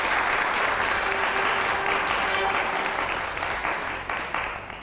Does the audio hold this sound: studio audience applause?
yes